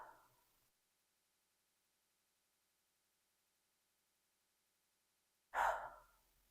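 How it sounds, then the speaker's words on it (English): Slow, deep breathing in a quiet room: a breathy sound fades out at the start, a long silence follows, then a full, audible breath returns near the end, close and soft. "just let the inhale be slightly longer than the exhale"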